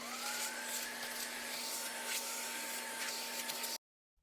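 A vacuum cleaner runs steadily in a small apartment, a loud close whine with a constant hum, then cuts off abruptly near the end, leaving silence.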